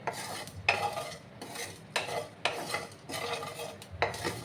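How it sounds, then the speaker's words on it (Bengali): Fennel seeds dry roast in a pan, stirred in repeated scraping, rattling strokes roughly every half second, with a faint sizzle underneath. "এবার আমি এটাকে একটু ড্রাই রোস্ট করে নেব হালকা করে ভেজে নিতে হবে"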